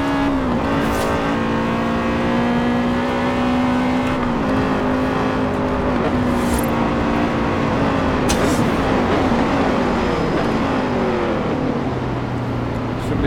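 A car engine drones steadily in Forza Horizon 4, rising and falling in pitch through gear changes as the car drives continuously, loud and close throughout.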